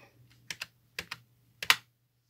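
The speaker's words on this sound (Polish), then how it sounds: "Klawiatura" Keys clack on a backlit Legion computer keyboard, a few isolated taps and a quick pair of strokes, crisp and close with short gaps of quiet between them.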